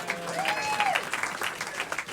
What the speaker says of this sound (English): let's have some applause for Joel Perlish, the photographer